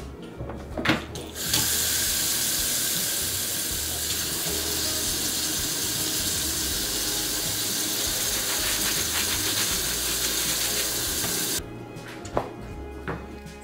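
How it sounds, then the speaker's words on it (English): A kitchen sink faucet runs steadily while the cat's food dishes are washed, with a constant rushing gush of water lasting about ten seconds, framed by a few faint clinks before and after. "The last thing I have to do is just wash the cat's dishes for tomorrow."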